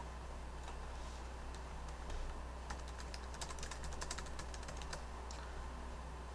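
Quiet computer keyboard typing, irregular bursts of light key clicks over a steady background hum, fairly close, with no talking.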